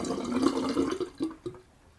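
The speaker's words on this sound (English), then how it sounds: "All right, going to drain the sea monster sink." A bathroom sink drains with a gurgling, sloshing swirl that tapers off into a few final glugs and drips over about two seconds.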